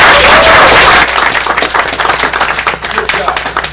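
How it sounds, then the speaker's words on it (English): An audience at a city commission meeting in Douglas, Georgia, bursts into dense, loud applause for about a second, which then thins into scattered claps as voices come through. "let's give them a round of applause."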